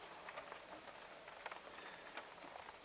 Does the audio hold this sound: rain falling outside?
yes